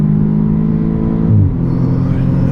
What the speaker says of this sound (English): A great note from the engine in front, and then from the exhaust and back